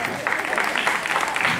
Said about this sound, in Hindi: ईंट और पाइप के लिए जोरदार ताली हो जाए।